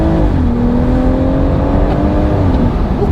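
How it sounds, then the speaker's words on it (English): BMW M140i hot hatch engine revving, a loud sustained drone whose pitch climbs then holds steady, close to the microphone with no voices. "The sound of this engine, even if you take out the electronic active sound design that's in the car through the speakers, it sounds heavenly"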